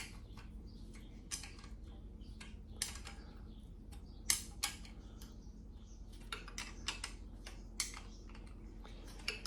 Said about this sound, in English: I'm just going to snug them down with this wrench